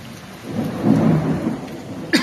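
A thunderstorm with heavy rain: a low rumble of thunder builds and rolls through the middle, over a steady wash of rain, and a sharp crack lands right at the end.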